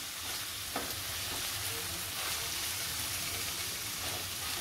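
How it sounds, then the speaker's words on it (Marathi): Onion and tomato frying in a pan for a Tengli sukat dry-fish dish, giving a steady, moderate sizzle with soft stirring scrapes and no voices. "चांगला कांदा टोमॅटो शिजवून घ्यायचा आणि मग सगळं घालायचं आहे।"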